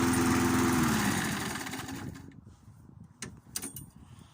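Briggs and Stratton 3.75hp lawn mower engine shutting off: the close running drone winds down and fades within about two seconds, followed by quiet and a few soft knocks and clunks.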